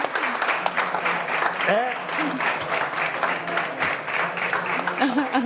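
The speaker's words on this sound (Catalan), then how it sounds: "Un aplaudiment aquí al públic." A crowd claps steadily in sustained applause at a gastronomy festival opening, with a few voices and calls mixed in.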